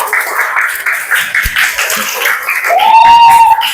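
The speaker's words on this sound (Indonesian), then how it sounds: "Tepuk tangan buat kelompoknya Mbak Nana dan kawan-kawan" Students in a classroom clapping for a group after its presentation, a quick run of scattered, fairly close handclaps that builds toward the end.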